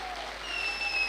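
Steady clapping from a large live audience at an early-morning business seminar, dense and continuous across the short stretch without any talk over it.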